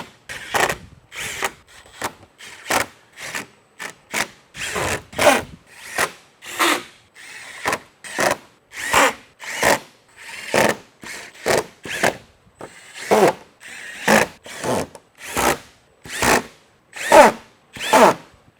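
A power tool tightens 8mm fasteners on a 2024 Mustang GT supercharger kit in a long series of loud, close, ratcheting bursts, each a second or less, separated by brief pauses.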